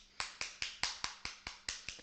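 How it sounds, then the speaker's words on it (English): Repeated hand claps, about ten evenly spaced sharp slaps over two seconds, fairly close and alone with no talking, during a gaming podcast. "I don't know if you can hear me. I'm clapping."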